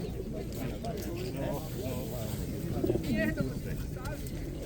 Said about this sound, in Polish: Tu mamy gołębie krymskie